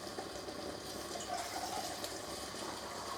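Water trickles and splashes steadily into a bowl of turkey stuffing mix, a continuous soft pouring wash with no talking.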